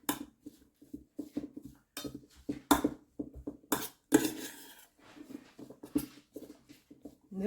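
Tin fish sambal being mixed with lime juice in a bowl, with irregular clinking and scraping taps of a spoon against the bowl, close and fairly quiet.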